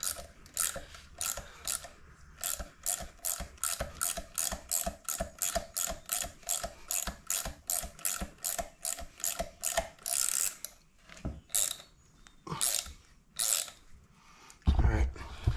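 A ratcheting tap cuts threads, giving long runs of rapid metallic clicks in steady bursts with short pauses between strokes, loud and close, followed by a few heavier knocks near the end.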